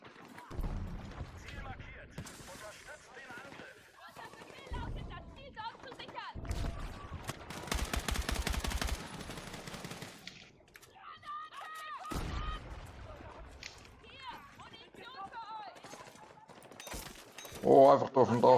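Gunfire in Battlefield 6 during a squad match, with repeated shot bursts and a sustained rattling stretch in the middle, heard under constant excited talk from several players.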